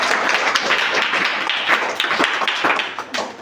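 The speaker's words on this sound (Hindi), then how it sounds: "जोरदार ताली बजाइए।" Loud, dense audience clapping at a children's general-knowledge quiz contest, steady throughout with no speech over it.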